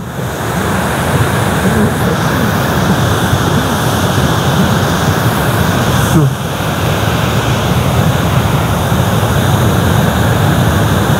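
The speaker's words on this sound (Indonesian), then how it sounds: "karena ini deburan ombaknya ya." River rapids at Riam Batu Jato, Sekadau, where water pours down from the upper falls; a loud, constant, close rushing roar that fills the whole stretch without letup.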